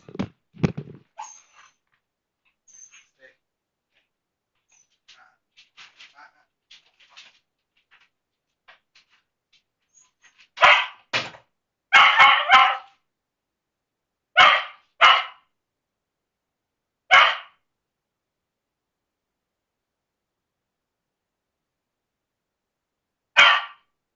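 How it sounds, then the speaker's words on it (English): A dog lets out a series of sharp, close barks in short bursts and pairs, spaced by quiet gaps, after a few faint scattered noises at the start. "Dog's barking now."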